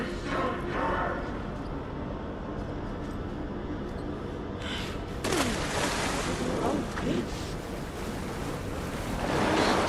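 Water and waves in the game Alan Wake 2, a rough churning wash with wind-like rumble that swells and splashes, growing louder in bursts toward the end.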